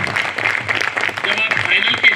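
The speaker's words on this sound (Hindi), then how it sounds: "तालियों में दम नहीं है, ये एनरोलमेंट वाली ताली नहीं है" An audience at a Bar Council of Delhi enrolment meeting applauds in a dense, continuous round of clapping, with a voice talking over it.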